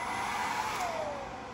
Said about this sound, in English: Microwave's going, hairdryer's on low